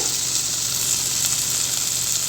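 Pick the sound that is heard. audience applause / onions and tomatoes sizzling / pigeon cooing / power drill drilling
onions and tomatoes sizzling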